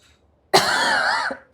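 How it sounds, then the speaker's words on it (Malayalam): One harsh, drawn-out cough from a person, loud and close in a quiet room, with the start of a second cough at the very end. "ഒന്ന് ചുമയ്ക്കുന്നു."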